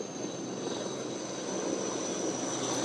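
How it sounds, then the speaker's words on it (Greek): A helicopter flying over a large wildfire at Plaka Keratea gives a steady, loud engine and rotor roar that holds evenly throughout, with no talk. "Αυτή τη στιγμή ακούω, Γιώργο, να πλησιάζει ένα ελικόπτερο ακόμα."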